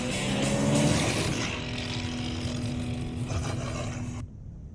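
A car engine roars in a commercial, a loud steady motor drone that rises early then holds before cutting off abruptly near the end.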